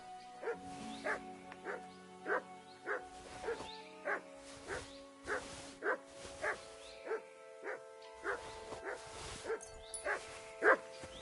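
Mutt the dog barks repeatedly in Kingdom Come Deliverance 2, a steady run of about twenty sharp yips and woofs at close range over a soft background.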